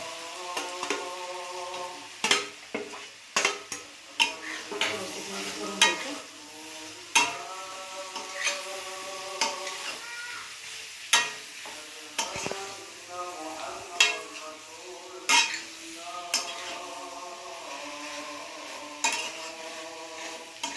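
Jackfruit pieces being stirred into hot oil and masala in a pan, with a spoon scraping and clinking against the metal in irregular strokes over a soft sizzle, close and moderately loud throughout.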